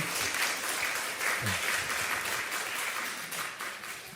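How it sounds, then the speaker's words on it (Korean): Church congregation applauding after a hymn at an afternoon worship service, a steady sustained wash of clapping carrying through without pause, moderately loud and filling the room. "박수가 기네요"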